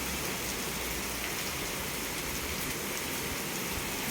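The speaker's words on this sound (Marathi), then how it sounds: "आत्ता बघू शकता कसला पावसाचा आवाज येतो आहे" Heavy rain pours down in a dense, unbroken roar of drops onto pooling water, loud and constant throughout.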